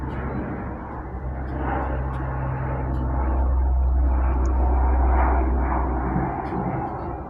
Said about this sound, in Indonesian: kita break dulu teman-teman, ada pesawat lewat dulu ya